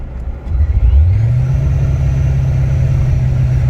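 An LS1 V8 car engine with a faulty throttle position sensor and disconnected speed sensor drops from a rev back to a steady low idle, a loud continuous rumble with no talk.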